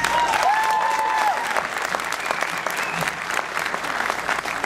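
A crowd welcomes a singer onstage with loud, sustained applause, many hands clapping together and tapering off slightly toward the end, with no talking over it.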